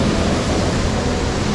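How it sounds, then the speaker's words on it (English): A waterfall near Westport, New York gives a steady, loud broadband roar of rushing water, close by and unbroken, with no other sounds over it. "We came across this waterfall in the back."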